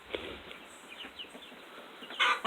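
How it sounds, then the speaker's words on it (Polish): Leghorn hens clucking softly nearby, scattered short clucks with a louder flurry of squawks toward the end. "Te dwie kurki lekhorne już się zadomowiły"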